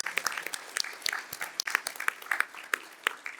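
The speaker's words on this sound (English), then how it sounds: "one big applause to all of you who have put this into place." Audience at a patient panel discussion applauding the organizers, scattered individual claps with a sparse, uneven rhythm, fairly quiet and close.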